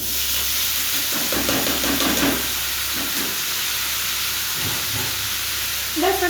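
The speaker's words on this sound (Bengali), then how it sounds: "এবার আলু আর ঝিঙেটাকে ভালোভাবে ভেজে নেব" Potato and ridge gourd pieces fry in hot oil, giving a steady, close hiss and sizzle that runs the whole time, with a few soft stirring knocks.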